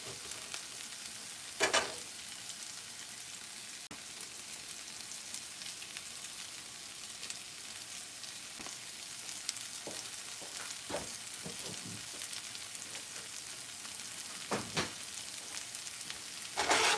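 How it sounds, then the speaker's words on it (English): Minced garlic sizzles in a hot pan while shrimp chow mein and broccoli are being made, a steady close frying hiss throughout with a few sharper crackles and spatters. "I'm going to add the minced garlic"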